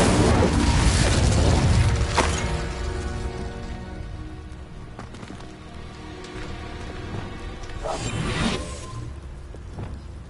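An Incendio fire spell bursts in Hogwarts Legacy, a loud boom and crackling whoosh up front that fades into a softer roar, with a second swelling blast near the end.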